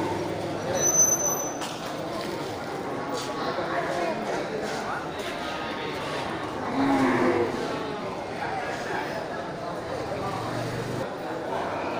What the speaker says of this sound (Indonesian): ini sapi bakalan dari jenis sapi Aceh